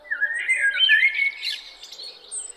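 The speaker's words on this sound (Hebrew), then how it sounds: "אתה שומע את הציפורים עפים" Birds around forest treetops give a run of bright chirps and squawking calls, close and clear, in an otherwise quiet setting with no voices.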